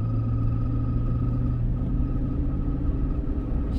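A 2003 GM truck accelerates on a snowy highway, its engine and drivetrain a steady low rumble heard from inside the cab, holding even and loud without distinct gear changes.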